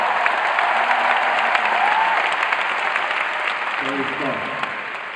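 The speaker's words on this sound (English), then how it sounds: "welcome him with a great applause" An audience at a Singapore praise festival applauds steadily as a church pastor is welcomed on stage, dense clapping that holds for the whole stretch, with some faint voices near the end.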